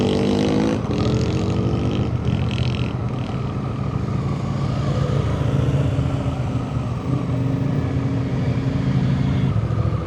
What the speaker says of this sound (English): There go the Moto Marinis.